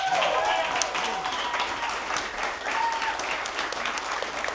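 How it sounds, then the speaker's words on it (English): An audience applauds for a speaker named Joe at a gathering, sustained clapping from a crowd, fairly loud and dense, lasting throughout with a few voices mixed in. "everybody give a round of applause for Joe"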